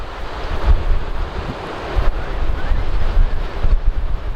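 Ocean waves roll onto a beach on the Central Oregon Coast as a steady, loud rushing wash with heavy wind buffeting the microphone.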